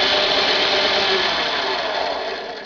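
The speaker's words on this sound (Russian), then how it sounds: "и сверлим примерно," A power drill bores into a wooden board meant for sockets, a loud, even high-pitched whine held steady before it tapers off at the end.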